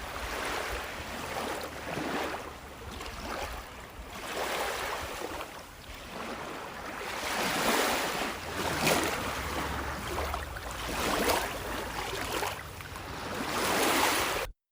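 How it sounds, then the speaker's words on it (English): Flowing river water rushes steadily in broad, airy swells that rise and fall without pause, filling the scene with a continuous wash and no voices. "The river carries you onward, and the stars above Dathomir weep."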